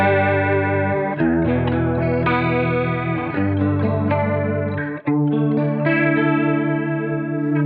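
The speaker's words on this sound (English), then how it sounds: "that's an Arion chorus pedal" Electric guitar played through an Arion chorus pedal rings out in a continuous stream of warm, shimmering chords and notes with a wide wavering swirl, close and loud, unaccompanied by any talking.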